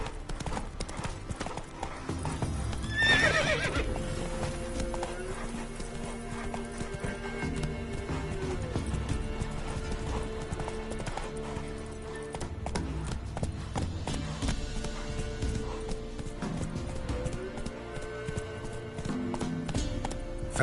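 Roach, a horse in The Witcher 3, gallops with a steady rapid clip-clop of hooves, with a sharp whinny breaking out around three seconds in, all set against a continuous game music score.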